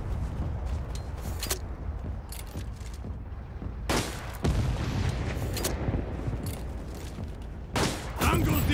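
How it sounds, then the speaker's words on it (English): Artillery and small-arms fire in the shooter World War 3, with continuous battlefield rumble punctuated by several sharp, loud blasts and bursts of gunfire, mostly distant with a few close impacts. "Artillery fire incoming."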